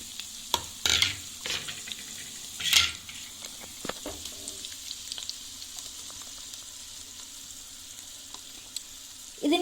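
Sautéed vegetables fry in a pan with ground tomato paste, for a pasta noodle dish. A soft sizzle runs throughout, with sharp metallic clinks and scrapes from stirring, the clearest early on.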